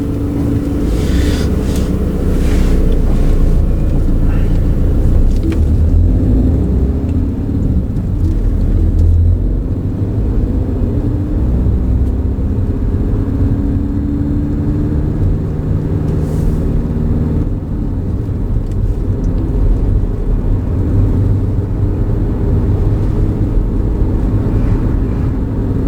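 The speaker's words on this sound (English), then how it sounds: "Right, so drive on when you're ready." A car drives along during a driving lesson, a steady low engine and road rumble with tyre noise throughout, fairly loud and continuous, with no talk heard.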